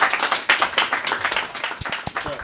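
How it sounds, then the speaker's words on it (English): Applause from an audience greeting comedian Roy Wood Jr. as he comes on, dense clapping that fills the clip, with a few sharper isolated claps standing out near the end. "Give him a round of applause."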